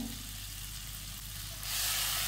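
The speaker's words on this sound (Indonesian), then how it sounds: "Kita tumis dulu bumbu yang sudah dihaluskan, yang pastinya pedes banget ini bumbunya." A ground, very spicy spice paste sizzles as it sautés in hot cooking oil, a steady close frying hiss that grows slightly louder near the end, with no talk.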